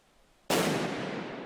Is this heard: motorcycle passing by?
no